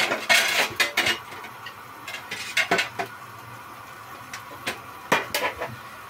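Metal clanks and clinks sound from a pot of chicken curry being covered with its lid, scattered sharp knocks and scrapes spread across the stretch at close range.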